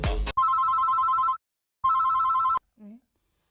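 A telephone rings in two long electronic bursts with a pause between them, loud and close, after a short noisy thump at the start, and a brief faint tone follows at the end.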